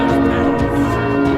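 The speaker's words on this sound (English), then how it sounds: "So all I gotta do is face plant into the bell." A metal bell struck in the Blood Omen 2 video game rings out loud and sustained, its steady tonal hum filling the whole moment with no talk.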